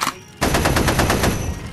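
Rapid machine-gun and cannon fire erupts after a brief quiet start, a loud, dense burst of repeated shots with an even rhythm, heard alone without talk.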